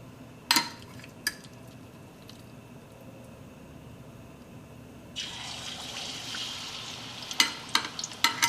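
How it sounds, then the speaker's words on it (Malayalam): Chicken pieces dropped into hot oil for a Kerala chicken roast, with a few sharp clicks early on, then a steady bright sizzle that rises partway through and carries on with scattered pops and clatter. "നമുക്ക് ചൂടായ എണ്ണയിലേക്ക് നമുക്ക് ചിക്കൻ ഇടാം."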